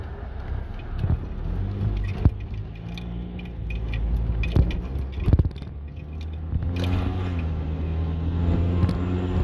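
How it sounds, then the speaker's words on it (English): Road traffic rumbles past on a morning street, a steady low drone of car engines with occasional louder vehicles swelling by, continuous throughout with no talking. "traffic is starting to accumulate"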